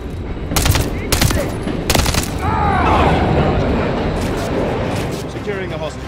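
Several loud, sharp gunshots ring out in a Call of Duty: Modern Warfare 3 hostage room, followed by shouted voices over a steady rumble of action.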